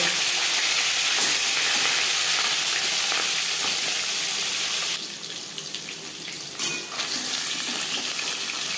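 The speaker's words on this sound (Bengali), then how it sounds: "একটা সাইড ভাজা হয়ে গেলে অপর সাইডটা উল্টে" Pieces of katla fish fry in a pan of hot oil with a bright, continuous sizzle. It dips briefly partway through, then the crackling returns, and no one speaks.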